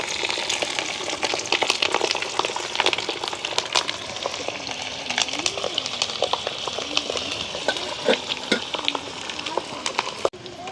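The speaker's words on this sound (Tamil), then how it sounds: "ஒவ்வொரு மிளகாயாக பொரிச்செடுக்கிறேன்" Egg-stuffed curry chillies fry in hot oil in a village kitchen, giving a steady loud sizzle and crackle with scattered pops throughout, no voices over it.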